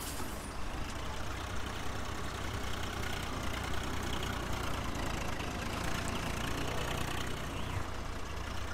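A Swaraj 855 tractor engine in Farming Simulator 19 runs with a steady, faint mechanical drone working a wet, muddy field, unbroken and without speech.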